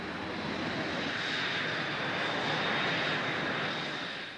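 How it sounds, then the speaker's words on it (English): A Hornet jet aircraft in flight gives a continuous roaring engine drone that swells gradually and then eases slightly, heard from a moderate distance, steady and broadband with no talk. "Harry's first Hornet flight begins"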